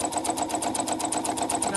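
A sewing machine stitches appliqué fabric for a bee design, its needle running in a steady rapid chatter up close without a pause for nearly two seconds, with no talking.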